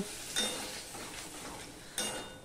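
Spice masala with ground coriander and a splash of water cooks in a pan for a mourola fish curry, a quiet low sizzle with two brief spoon scrapes against the pan.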